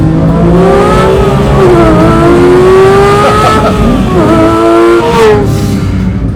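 A 2025 Porsche 911 engine revs loud and close, its pitch climbing through gears in long sweeping rises, briefly dipping and swelling again, with a faint tire squeal amid the steady race-car-like roar and no talking.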